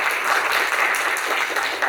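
A conference audience applauds the core committee at an academic symposium inauguration, producing a short burst of full, even clapping throughout.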